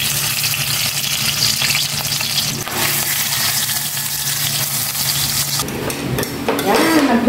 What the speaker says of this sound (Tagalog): Prito naman ako ng embutido.